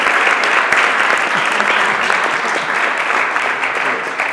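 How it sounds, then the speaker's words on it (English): A dense, steady wash of audience applause at a Gnomon event, loud and continuous throughout with no talk over it. "Another round of applause."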